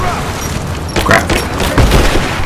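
Grenade explosions and gunfire burst in a Rise of the Tomb Raider firefight, a loud sustained rumble of booms and shots with people's voices partly over it.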